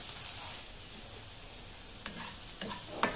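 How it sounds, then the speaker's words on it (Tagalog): Garlic frying in a pan for pork steak gives a steady close sizzle, with a few soft clinks and scrapes of stirring near the end. "Kailangan brown yung ating bawang na lulutuin para mabango."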